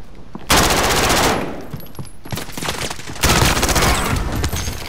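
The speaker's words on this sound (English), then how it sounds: "Somebody else shooting them." Dense bursts of automatic gunfire from a Call of Duty: Modern Warfare match, loud sustained volleys with a brief lull before another heavy stretch of rapid shots.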